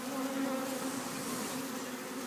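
Close, steady buzzing of many honey bees around a queen during removal of a colony from floor joists, a dense continuous drone with a humming tone, no voices.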